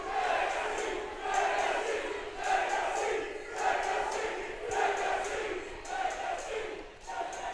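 Wrestling event crowd chants in a steady repeating rhythm, a large arena audience heard loud and continuous throughout with no clear speech over it.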